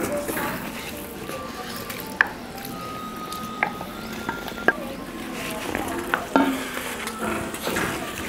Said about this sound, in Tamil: இப்போ நம்ம கட் பண்ணி சர்க்கரையில் ஊற வச்சுருக்க பைனாப்பிளை சேர்த்துக்கலாம்.